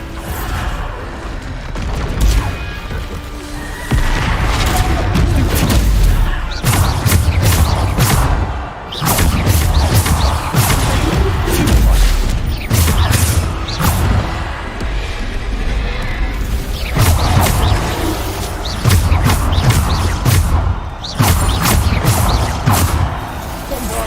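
Spells cast in Hogwarts Legacy erupt in a dense run of loud booming explosions and crashing impacts, layered with game effects and a voice calling out spell names.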